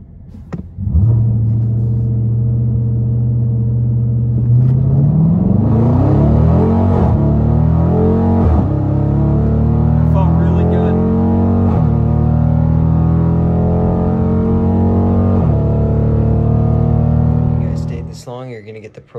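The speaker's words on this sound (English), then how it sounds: "You're going to hear the car make that launch control noise that everybody knows." Dodge Challenger or Charger on launch control at a drag strip, the engine holding a steady held rumble and then climbing into a loud, rising roar with stepped pitch changes before cutting off near the end.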